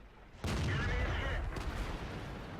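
A single loud tank cannon shot booms in World of Tanks, with a sharp blast followed by a rumbling, fading tail and lingering echo.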